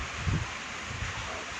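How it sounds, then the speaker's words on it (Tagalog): Strong typhoon wind sweeps through Tacloban City without rain, a soft continuous rush with rustling leaves and low microphone buffeting, one stronger gust early on, heard alone and fairly faint. "Malakas na po ang hangin dito sa Tacloban ngayon."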